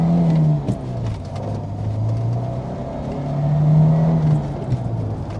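Citroen CX Turbo 2 engine pulling hard through the gears, a steady loud drone that rises in pitch, dips at a gear change and climbs again, close and continuous with no talk.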